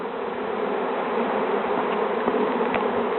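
Bees buzz in a dense, steady hum, close and fairly loud, with a few individual insects droning past the microphone.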